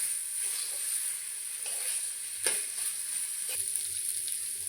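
Spiced, cooked chicken filling for kachori fries in a pan. A soft, steady sizzle carries on throughout, broken by occasional scraping stirs, quiet and close with no talking.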